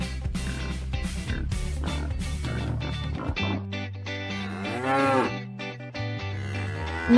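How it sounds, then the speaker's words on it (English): Dairy cow mooing on a farm, a long loud drawn-out moo rising and falling in pitch, heard over a continuous musical backing track. "Milk cow."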